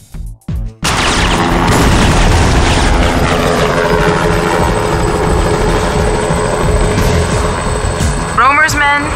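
Loud helicopter rotor and engine roar in the Syphon Filter video game, a dense continuous wash after two brief bursts at the start, with a short sweeping effect near the end.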